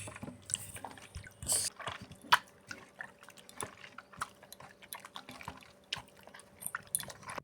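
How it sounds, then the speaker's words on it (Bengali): Flour dough is squeezed and rinsed in a bowl of clean water, producing faint, close squelches, drips and small splashes in an irregular rhythm. "জল চেঞ্জ করে আবার পরিষ্কার জল দিয়ে ধুয়ে নিতে হবে।"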